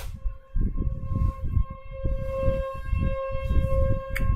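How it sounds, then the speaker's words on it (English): A steady wailing siren tone holds through the clip, like a tornado warning siren, over rumbling wind-like noise and low thumps. "tornado sirens are going off right here"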